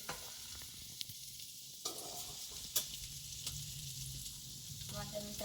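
Thinly sliced cabbage and capsicum, salted, sauté and sizzle in a pan with steady soft frying and a few light clicks of stirring, with no talk.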